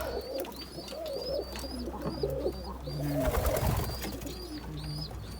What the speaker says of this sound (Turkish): Şöyle postanın altındaki güvercinleri de gösterelim bakalım.